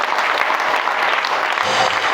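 A church congregation claps together in dense, sustained applause, loud and close, filling the whole moment without a break.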